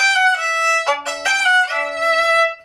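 Solo violin playing a short phrase, with notes that slide smoothly in pitch between them, clear and close.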